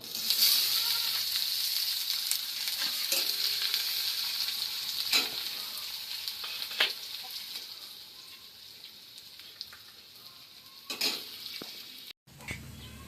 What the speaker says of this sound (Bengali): এবারে গরম তেলটাতে আমি পেঁয়াজগুলো দিয়ে দেবো।